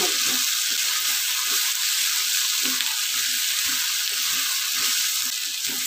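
Brinjal curry with ground peanut powder cooks in a pan with a steady, bright sizzling hiss throughout, joined by soft intermittent stirring scrapes at close range.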